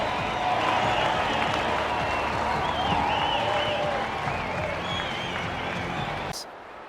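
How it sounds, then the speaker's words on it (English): A stadium crowd cheers and applauds after a try in the Rugby League 26 video game, a dense continuous roar with a commentator talking over it before it cuts off abruptly near the end. "The crowd are up."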